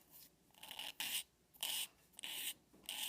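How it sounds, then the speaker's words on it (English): Nail file sanding under a very long fingernail, a close, quiet scratchy rasp in repeated short strokes of roughly half a second each, alone without talk. "I want to make sure that I can sand under the nail."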